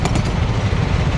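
A bike-taxi motorcycle engine idles close by, a steady low rumble with a fast buzzing pulse running through the whole short moment.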